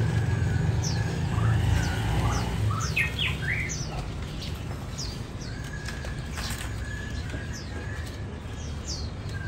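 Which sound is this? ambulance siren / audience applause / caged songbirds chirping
caged songbirds chirping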